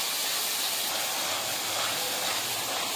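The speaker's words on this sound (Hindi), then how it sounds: "हमने आधे मिनट के लिए हरी मिर्च के पेस्ट को भी भून लिया है" Green chili paste frying in a pan, a steady close sizzle and hiss that holds level without a break.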